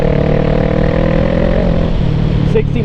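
A vehicle on new tires drives at speed up a gravel hill, its engine droning loud and steady throughout with constant road and tire noise, close and continuous over the whole stretch.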